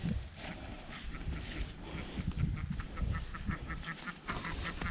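Ducks on a mountain farm in the Pyrenees quack and honk in a busy, continuous chorus while being fed lettuce, close by with steady overlapping calls and no talk.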